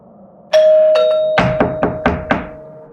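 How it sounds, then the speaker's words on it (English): A two-tone doorbell chimes twice, then a rapid series of five firm knocks on a door follows, each a sharp thud, close and loud against an otherwise quiet room with a lingering tonal hum. "there have been persistent bells and knocks on the door"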